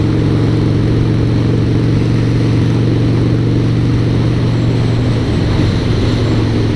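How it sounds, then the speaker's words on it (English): A car engine drones steadily and loud from inside the vehicle on an open road, a constant mid-pitched hum with no clear rise, as the driver pulls out to pass another vehicle. "I'm gonna sort that out right now and pass this vehicle."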